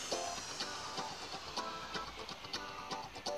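A serger stitches fabric edges together for a maxi wrap skirt, giving a close, steady mechanical whir with rapid rhythmic ticking throughout, with no talking.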